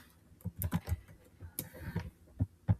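Keystrokes on a computer keyboard arrive in short irregular bursts and single taps, fairly close and light, with no voices.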